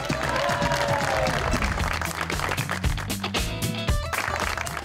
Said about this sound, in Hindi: तालियों के साथ इस्तकबाल कीजिए चौधरी गुलाम हुसैन साहब और साबिर शाकिर।